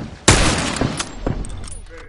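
Rifle gunfire in a first-person shooter game: a sharp, loud shot bursts out near the start, followed by scattered quieter pops and echoes, with voices calling out faintly underneath.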